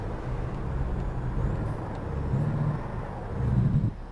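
Heavy truck engine in American Truck Simulator, droning steadily at low pitch with a few rises in revs as gears drop, swelling louder near the end before easing off, with no voices.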